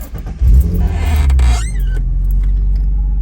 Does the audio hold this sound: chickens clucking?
no